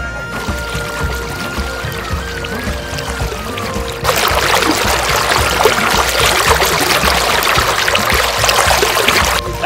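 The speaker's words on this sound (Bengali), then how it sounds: "এখন আমরা র্যাফটিং বোটে রয়েছি," A river rafting boat on moving water, with loud continuous rushing and splashing that steps up sharply partway through, strong and close, with faint tonal sounds in the first part.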